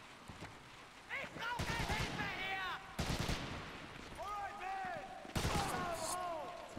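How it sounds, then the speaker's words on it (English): Enemy gunfire in the World War II shooter Medal of Honor European Assault, with several sharp bursts of shots that come and go. Voices talk over and between the volleys. "There's definitely somebody else shooting"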